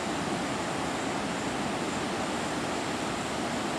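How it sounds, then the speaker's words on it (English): Victoria Falls in southern Africa, near the Devil's Cataract, roars as a huge volume of water pours over the falls, giving a steady, dense broadband rush with no break across the short stretch. "This is a real waterfall, and that is a lot of water coming over that real waterfall."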